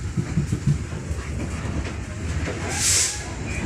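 A train at Kertapati station, a railway servicing site, gives off low rumbling and clanking amid platform ambience, with a short bright hiss near the end.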